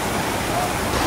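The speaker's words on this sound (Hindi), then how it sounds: "ये देखो ये वाला वाटरफॉल है" Small mountain waterfall on a trip to Tosh and Bijli Mahadev, a steady broadband rush of cold water flowing close by, continuous and loud throughout, with people talking over it.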